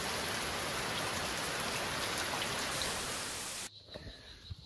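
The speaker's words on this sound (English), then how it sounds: "It's rainy" Steady rain pours down over a tropical homestead garden in Costa Rica, a dense continuous hiss that cuts off abruptly near the end, leaving quieter outdoor ambience.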